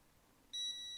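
A brake fluid tester dipped into fluid during an S-10 brake overhaul gives a single sharp, clear electronic beep that holds steady for about half a second, close and alone.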